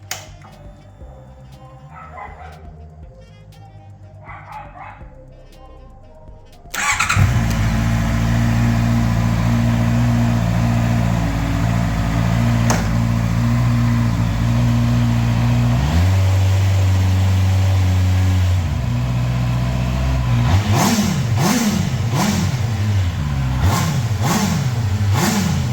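A Honda CB650R motorcycle engine, de-restricted, cranks and fires, then settles into a loud steady idle before several sharp rising and falling revs near the end; quieter rustling and faint sounds come before the start.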